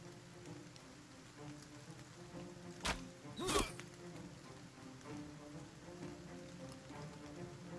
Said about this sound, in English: The rain sounds pretty nice.